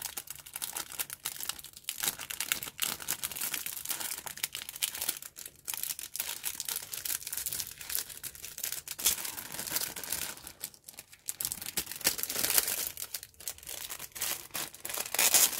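Resealable plastic bags holding parts of a 1/35 scale model tank kit are opened and handled, a continuous close crinkling and rustling with sharp crackles throughout.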